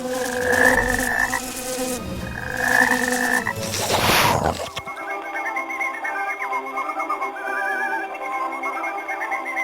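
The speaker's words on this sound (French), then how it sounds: "le sort transforma Blanche-Neige en grenouille" Cartoon frogs croaking in repeated bursts over a buzzing, insect-like drone, with music underneath, then a steady chorus of croaks and chirps continues alone.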